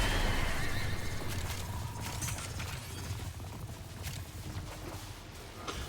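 A horse in the game Warframe, belonging to the character Dagath, gives a loud, close whinny over a dense, noisy game soundscape, with light hoof clatter beneath.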